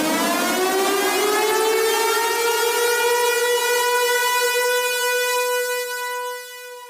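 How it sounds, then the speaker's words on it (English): A civil defense siren wails loud and steady, holding a rising then sustained tone for about six seconds before it begins to wind down at the end, with no voices over it. "The sirens went off today."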